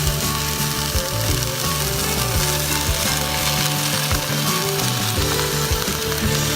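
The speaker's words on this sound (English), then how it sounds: "We're going to start adding our zucchini." Zucchini slices going into a pan of softened vegetables for ratatouille, cooking with a steady, close, continuous sizzle and faint scraping against the pan, no talking.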